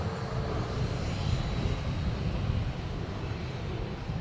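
Aer Lingus Airbus A320 arriving from Paris at Dublin Airport: a low, steady engine rumble with a faint high whine, fairly quiet and unbroken over a few seconds, no voices.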